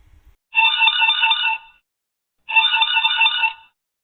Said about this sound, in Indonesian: Kala pun memutuskan untuk menelepon sepupunya yang bernama Ardia